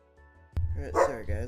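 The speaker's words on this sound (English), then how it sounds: "sorry if you can hear my dog barking" A pet dog barks near a home computer, giving a short yippy burst right beside a person who is talking.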